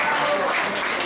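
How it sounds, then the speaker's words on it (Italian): At a festive gathering, an audience applauds in a brief, dense burst of steady clapping, with a voice or tonal sound running faintly underneath. "un applauso."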